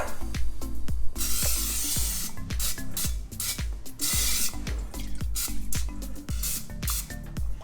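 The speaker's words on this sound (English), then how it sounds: "Spray a separate bowl with cooking spray." Several short hissing bursts of cooking spray sprayed into a bowl, some longer than others, over a steady rhythmic mechanical background.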